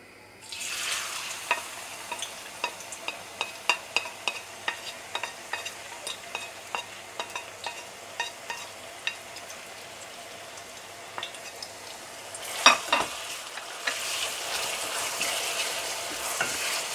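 Steady sizzling of two large finely chopped onions frying in hot olive oil, with repeated clicks and scrapes of stirring throughout and a louder clatter near the end.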